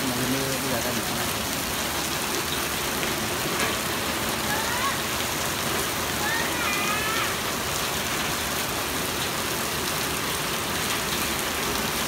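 Heavy rain with hail pours down at a traffic roundabout, a loud, dense, unbroken hiss of water hitting surfaces, with a few brief voices faintly audible beneath it.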